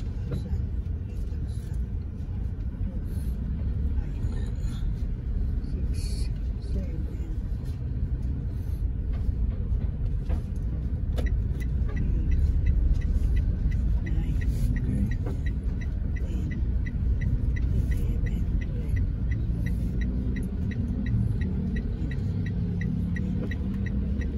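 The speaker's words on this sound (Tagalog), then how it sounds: "Ginagawa yung daan dito kaya medyo sikip. Medyo masikip. Maraming sasakyan." Heavy traffic crawls along a congested highway under road construction, a constant low rumble of car and bus engines with a steady throbbing drone, close and continuous the whole time, with no clear voices.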